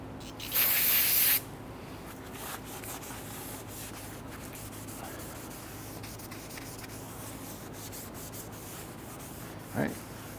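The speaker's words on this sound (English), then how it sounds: "So we're just using some regular brake solvent." Brake solvent cleaner sprays onto the rear brakes of a 2006–2010 Honda Ridgeline in one short loud hiss burst, followed by quiet rubbing and faint shop noise, with no talk.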